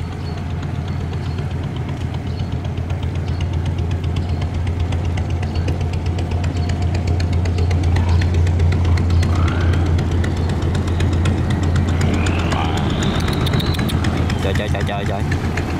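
Barge engines running on a small, crowded river near a market, a loud steady low drone throughout with occasional horn-like tones and voices mixed in.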